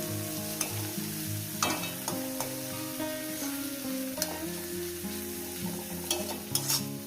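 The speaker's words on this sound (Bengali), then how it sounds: "মিনিমাম দু মিনিট এটাকে ভেজে নিতে দু থেকে তিন মিনিট ভালো করে সুন্দর করে চিংড়িটাও ভাজা হয়ে যাবে" Greens with dried shrimp, onion, garlic and turmeric frying in a pan, a steady sizzle with repeated stirring scrapes and clinks under soft background music, no voices.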